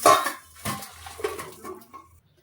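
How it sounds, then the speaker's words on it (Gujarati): A metal steamer pot and its perforated strainer vessel being handled after boiling water chestnuts, giving several close clinks and scrapes of metal in an otherwise quiet kitchen. "જાળીવાળા વાસણ કાઢી લેશું આપણે"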